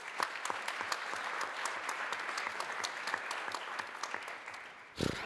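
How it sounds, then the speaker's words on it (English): An audience at a conference session on social protection applauds steadily, a full sustained wash of clapping from a fair-sized crowd that carries on evenly before a louder thump at the end. "So, big round of applause."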